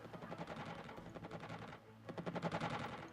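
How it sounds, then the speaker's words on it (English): In the strategy game Xenonauts, aircraft missiles fire automatically, producing quick, rattling bursts of rapid shots in two rhythmic runs, fairly faint. "since we got into the range, our missiles just kind of fired automatically"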